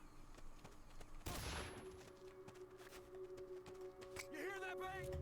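A single sharp gunshot bang from the video game Metal Gear Solid: Peace Walker cracks out amid quiet game ambience, followed by a short electronic chirping effect.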